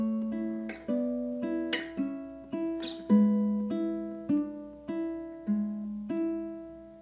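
A plucked ukulele plays the opening bars of a classical piece, a slow, gentle melody, each note ringing clearly in a steady rhythm, close and alone with no talking.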